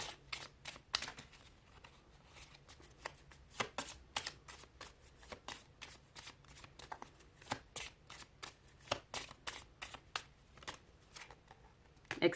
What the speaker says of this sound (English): these cards are so easy for me to shuffle